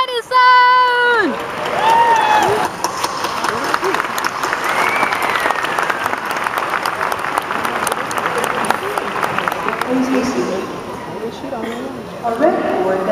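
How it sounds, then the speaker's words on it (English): Graduation audience clapping for supporters at an Arkansas State University ceremony, a large crowd giving sustained applause with cheering and shouts, heard in a big hall with voices rising through it. "Now everybody's clapping for their supporters."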